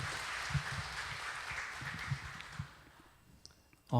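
Light applause from a church congregation welcoming a family to share their story, moderately distant and thinning out after a few seconds, with some low murmuring under the claps.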